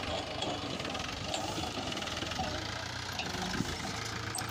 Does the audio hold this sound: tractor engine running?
yes